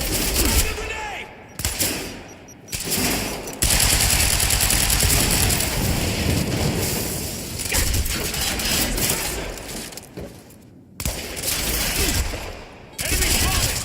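Rapid gunfire and bursts from the video game Quantum Break, loud and sustained with brief gaps, mixed with mechanical clatter and shouted combat callouts.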